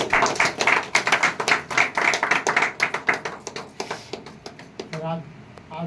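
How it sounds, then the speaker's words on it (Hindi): A party crowd claps for Rajesh sir in quick, steady bursts for about four seconds, fairly loud and close, before the applause tapers off and a voice takes over. "जोरदार ताली सर के लिए।"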